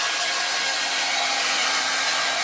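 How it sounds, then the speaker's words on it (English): A hair dryer blows hard and steady at close range while drying chalk paint, a loud, even hissing rush of air with no speech. "I've got a hair dryer down here, so it's going to be loud for a minute."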